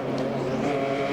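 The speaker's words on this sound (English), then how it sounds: "as you can tell by the engine note as you listen. That's one of the inline 6s, and that's Dirk Mueller behind the wheel of" The inline-six engine of a BMW M3 GTR E46 race car, the number 43 Schnitzer team car at the 12 Hours of Sebring, howls in a steady, loud onboard note with no speech.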